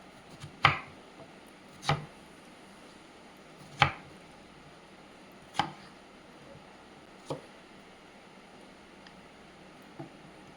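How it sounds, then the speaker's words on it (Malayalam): Knife cutting a watermelon into pieces: six separate sharp chops spaced a second or two apart, each crisp and close, fading slightly toward the end over quiet background. "ഇനി കട്ട് ചെയ്തെടുക്കാം കഷ്ണങ്ങളായിട്ട്."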